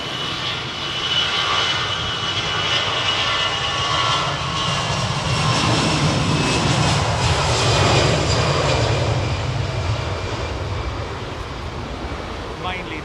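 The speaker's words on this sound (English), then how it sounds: "as you can hear, a much louder," Loud, sustained engine roar from an older CEO-engined airliner departing Heathrow, holding steady throughout and close to the listener, with a voice speaking faintly underneath.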